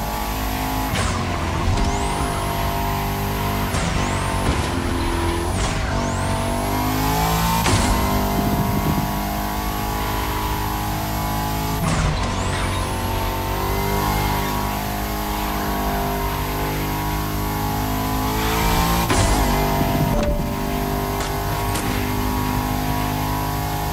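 A Bugatti hypercar concept in the racing game The Crew Motorfest roars loudly and continuously, its engine rising through sharp upshifts and revs, with bursts of tire squeal.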